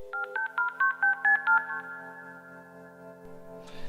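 A rapid string of touch-tone beeps rises and falls, then settles into steady tones before a burst of hissy modem-like static.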